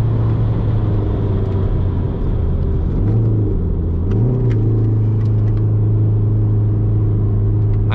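A car engine hums steadily as the car drives on a race track, with a couple of short rises in revs and a low road rumble underneath.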